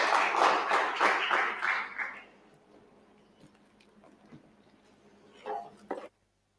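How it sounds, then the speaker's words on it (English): An audience claps for a presenter at a pitch fest innovation challenge; a burst of rhythmic applause fills the first two seconds and then fades, followed by quiet room tone and a brief louder clatter near the end. "Let's clap for Lukundo."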